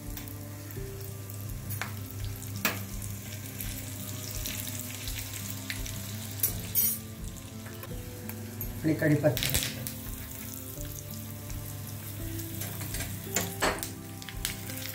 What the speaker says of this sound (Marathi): खमंग फोडणी झालेली